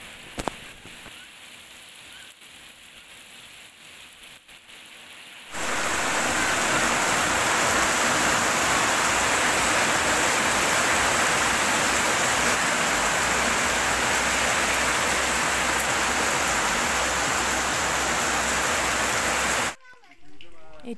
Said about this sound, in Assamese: খাই বৈ উঠাৰ পিছতে বৰষুণ আহিলে।